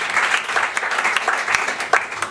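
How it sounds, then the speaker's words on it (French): A church congregation applauding in praise during a French-language sermon, a dense, steady wash of many hands clapping close by, with a few sharper individual claps standing out. "Est-ce qu'on peut acclamer pour la gloire de notre Seigneur?"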